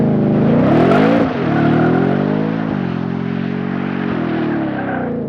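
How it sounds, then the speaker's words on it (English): A 2023 Ford F-150 Raptor R with a 5.2-liter supercharged V8 doing a smoky rear-wheel burnout launch, engine roaring loud and close as revs climb, dip briefly, then hold a sustained high drone with shifts. "Okay, that was a smoky burnout launch"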